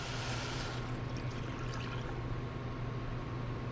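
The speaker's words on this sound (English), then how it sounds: "Now we're gonna add our water." Water pours steadily into a pan of roasted vegetables, a soft continuous trickle under a constant kitchen hum, with no talking.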